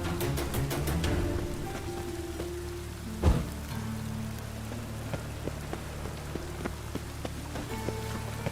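Steady rain pattering on surfaces in The Witcher 3: Wild Hunt, a dense, even hiss that runs through the whole stretch, broken by one brief louder thump near the middle and scattered faint ticks, with no talk.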